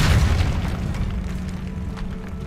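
A Depulso repelling spell cast in the Hogwarts Legacy video game, a deep booming blast with a low rumble that fades out over a couple of seconds.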